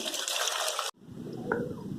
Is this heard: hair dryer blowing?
no